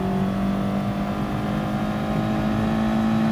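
Audi TT race car engine in GT Sport, a steady, loud droning hum held at constant pitch throughout, with no talk over it.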